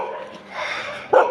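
Dogs on a town street in India give a short bark, loud and near, rising sharply near the end over a quieter background murmur.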